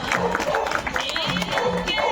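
Audience clapping to welcome a speaker at a Lohri festival gathering in Pathankot, a steady patter of hands with crowd murmur and a voice talking over it.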